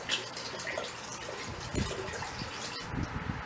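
Water from a bottle poured into a pot for mulled wine, a quiet continuous splashing and gurgling with a few louder glugs, close by and without talk.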